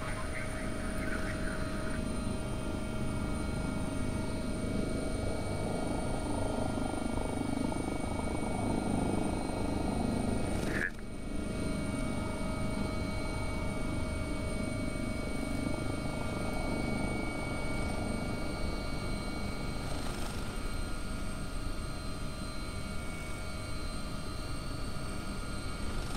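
A simulated AW139 helicopter in X-Plane 11 gives a steady, droning rotor and engine hum that runs unbroken for the whole stretch, with a brief click near the middle and no speech.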